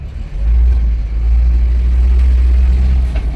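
A car engine running steadily at a low, loud rumble after shifting into first gear, with the idle-to-pull hum holding even throughout and no talking.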